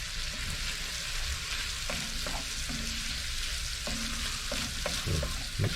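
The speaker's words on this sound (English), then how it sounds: "So we want to cook off those spices a little bit so they release their flavours properly." Ground spices fry and get stirred in a soup pot for mulligatawny, cooked in a narrowboat galley: a steady, close sizzle runs throughout, with occasional scrapes and clinks of the spoon against the pot.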